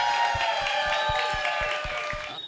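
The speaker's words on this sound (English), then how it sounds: "Can we please give them a round of applause?" A crowd applauds the wedding planners at a destination wedding reception in Mexico: dense, steady clapping that fills the room throughout, with a few sharper claps standing out and fading slightly toward the end.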